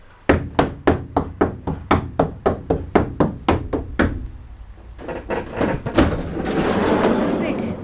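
Knocking on a van body panel after sound-deadening treatment: about fifteen evenly spaced, dull thuds close up in a quick steady rhythm, followed by shuffling and a soft thump.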